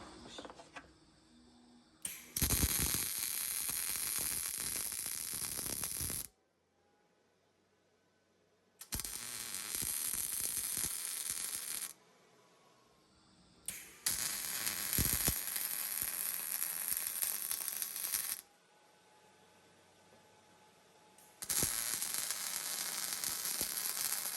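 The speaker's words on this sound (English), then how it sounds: "Let's put a little more sparks in there and see how that looks." A small welding fixture being used to weld plugs, giving loud bursts of crackling, sizzling arc noise, three long welds of several seconds each, separated by quiet gaps, with no talk.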